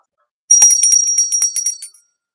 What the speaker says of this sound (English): That gets the ring from the special bell.